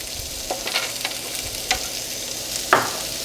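Cardamom pods and star anise sizzle in hot oil for slow roasted pork belly, a bright steady crackle up close with a few sharper pops and spits, and no voices.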